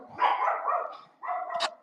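Dogs bark in two loud, close bursts with whiny, yelping tones, separated by a brief gap, and no one speaks over them.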